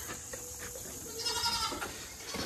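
Goats bleating on a farm, a couple of wavering calls close by, the second louder and more strained, over quiet background noise.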